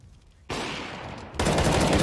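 Rapid gunfire from Counter-Strike: Global Offensive during a semi-final match, erupting in two loud, dense bursts after a quiet start, the second burst stronger and sustained to the end.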